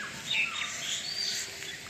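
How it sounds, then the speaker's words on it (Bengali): Small birds chirp and tweet near a quiet, tree-surrounded resort in the Dooars, giving a few bright, thin calls at a moderate distance over faint ambient hush. "পাখির আওয়াজ তোমরা শুনতে পাচ্ছ।"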